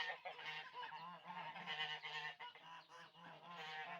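Geese honk repeatedly in a steady, nasal chorus, close by and fairly loud throughout.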